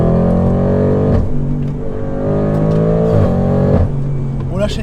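An Audi RS6 C8 engine revs and accelerates loudly, pitch climbing and dropping through several gear changes, with a voice talking over it.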